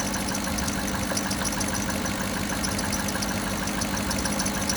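A 2007 Cadillac DTS engine idling after power steering pump work, a steady even hum with no change in pace throughout.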